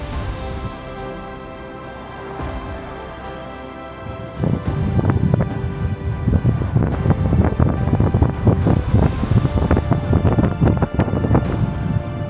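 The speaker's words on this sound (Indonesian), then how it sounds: "Angin bertiup kencang mendorong pintu ganda port town." Strong wind gusts blow around the double doors of a port-town building in Chiba, Japan at night, a steady low rush that swells into loud buffeting roar with rattling bursts in the second half.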